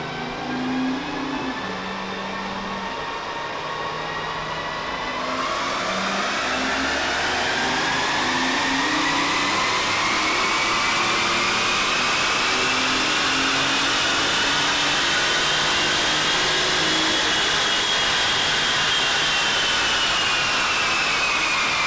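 A BMW i8 running on a dyno with a Kassel Performance tune, engine drone climbing steadily in pitch as it revs up, loud and close with a continuous rising whine, no talking.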